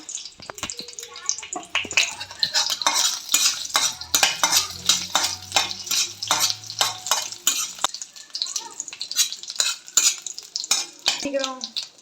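Cashews fry in ghee in a heavy pan for sweet semiya, giving a soft sizzle under repeated spoon scrapes and clinks against the metal; a voice talks at times alongside.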